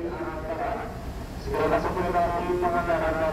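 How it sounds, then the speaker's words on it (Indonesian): Pangandaran passenger train from Jakarta Gambir pulling in at Tasikmalaya station, a steady rumble that swells midway, with people talking over it on the platform. "ini jalur 2 persiapan masuk kereta api Pangandaran dari stasiun Jakarta Gambir dengan tujuan akhir stasiun Banjar"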